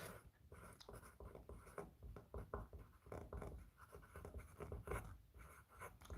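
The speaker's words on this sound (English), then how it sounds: "Let me write it down." Pen or pencil scratching across paper as something is written down, a quiet run of quick irregular strokes and scrapes close by, continuing steadily throughout.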